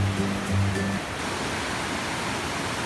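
Phromlok Waterfall in Nakhon Si Thammarat, Thailand, with water pouring over large boulders, gives a steady broadband rushing wash, with a faint low hum fading out in the first second.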